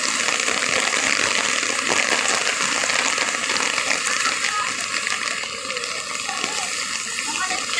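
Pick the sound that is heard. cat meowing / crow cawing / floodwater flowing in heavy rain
floodwater flowing in heavy rain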